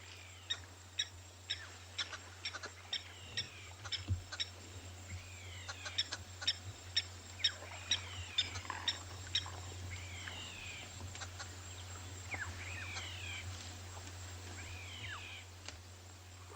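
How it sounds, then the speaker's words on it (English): Bird calls ring out in the bush at Ngala Private Game Reserve, including a greenwood hoopoe and blacksmith lapwing: repeated sharp chirps and chattering notes at moderate distance over a steady low rumble, with insect-like ticks scattered throughout. "So there's a greenwood hoopoe that's calling."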